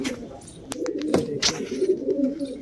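A Kalsire pigeon coos softly and steadily at close range, a low rumbling call that runs through the whole short stretch with faint rustles and clicks.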